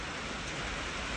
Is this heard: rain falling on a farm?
yes